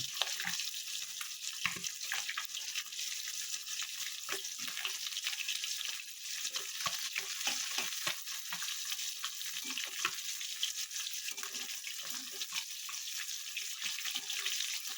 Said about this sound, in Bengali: আমার মাছটা প্রায় ভাজা হয়ে গেছে